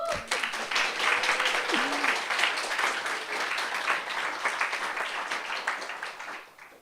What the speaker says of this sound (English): if you want to, a round of applause to us